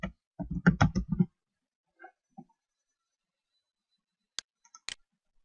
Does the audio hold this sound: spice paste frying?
no